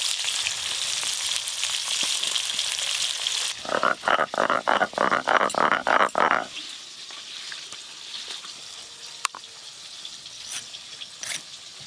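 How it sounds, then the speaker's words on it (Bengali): Bright, continuous sizzle of fish frying in mustard oil, interrupted midway by a series of rhythmic bubbling bursts, then settling to a softer sizzle. "মাছ ভাজার জন্য কড়াতে সর্ষের তেল দেব।"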